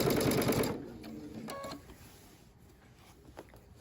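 A sewing machine fitted with a blind hem foot stitches binding onto a quilt in a quick whirring burst that stops after about a second, followed by a few faint clicks in a quiet room.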